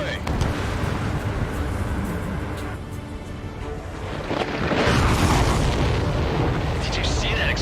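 Missile explosion in the Ace Combat 7 flight game, a broad roaring blast that swells over the steady drone of jet engines and fills the mix.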